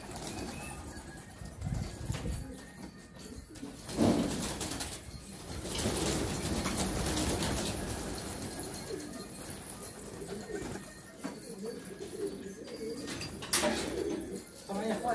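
Pigeons coo in low, repeated throaty calls with occasional wing flaps, heard close by against a steady background hum.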